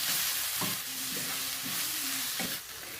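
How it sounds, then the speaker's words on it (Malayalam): Egg masala fry is stirred in a sizzling pan. A continuous frying hiss runs throughout, with a couple of distinct scraping strokes of the spoon; close, quiet and without speech. "നന്നായിട്ടൊന്ന് ഇളക്കി കൊടുക്കാം"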